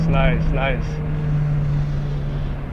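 A 90s Honda Civic with a B16A engine pulls hard in first gear as VTEC engages, a steady droning engine note that holds throughout, with someone talking briefly over the start.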